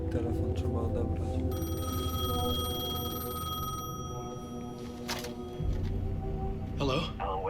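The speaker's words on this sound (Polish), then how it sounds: "The payphone was ringing." A payphone rings in the video game Alan Wake 2, a steady electronic tone with harmonics repeating over a dense game soundscape of low rumbling ambience.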